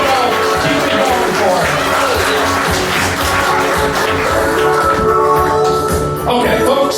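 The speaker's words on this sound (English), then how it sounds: "Give her a huge round of applause" A live audience claps and cheers at a public event, a dense, loud wash of applause with whoops rising above it, sustained for several seconds.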